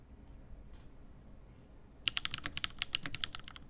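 Fingers type rapidly on a computer keyboard close to the microphone, a dense run of crisp clicks that starts after a quiet moment and continues steadily to the end.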